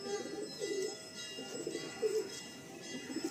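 Pigeons in a loft at Barasat give a few soft, throaty coos in short repeated bursts, close and alone without talk.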